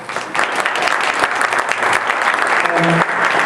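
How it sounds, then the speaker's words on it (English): A school board meeting audience gives a round of applause, steady dense clapping filling the room throughout, with a brief tonal sound near the end. "Let's give Dan a nice round of applause."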